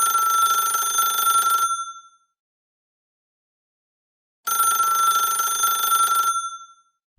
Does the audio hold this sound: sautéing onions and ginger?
no